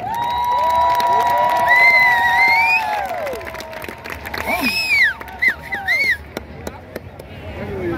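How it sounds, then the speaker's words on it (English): A homecoming crowd cheers and applauds at a college event, a dense roar of voices with whistles and shouts rising above it, loud and continuous throughout. "how about a special round of applause and let them know how you feel"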